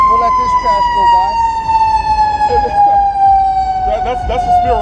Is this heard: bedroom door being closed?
no